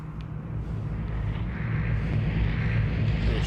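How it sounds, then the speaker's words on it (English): In a survival video game, an airdrop plane drones overhead, its broad engine rumble swelling gradually as it approaches, steady and moderately loud with no voices. "Here comes the plane."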